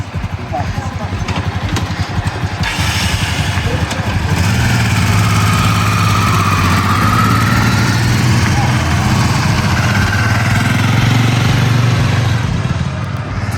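Ducati Desert X adventure motorcycle engines idle and rumble steadily nearby at an off-road course in Tuscany, a loud continuous throb with revving rising and falling, mixed with faint background voices.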